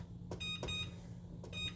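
Kitchen timer set while poaching eggs, sounding a few short high electronic beep bursts with pauses between, over steady low stovetop hum.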